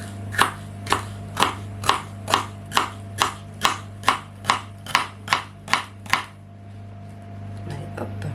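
A celery stalk is chopped with a knife on a board, about fourteen sharp, evenly spaced cuts in a steady rhythm, close and clear over a low hum, before the cutting stops.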